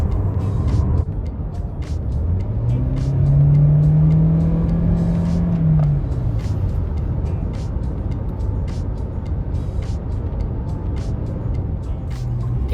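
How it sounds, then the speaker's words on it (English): Cabin sound of a 2023 Toyota Corolla Cross XSE Hybrid with a four-cylinder engine while driving, a steady road hum with one rising and falling engine drone near the start, close and continuous. "The only thing that's loud is the engine."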